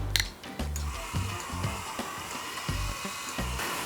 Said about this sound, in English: We wired up the whole motor.